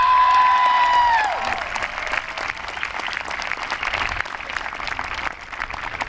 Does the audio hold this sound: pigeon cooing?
no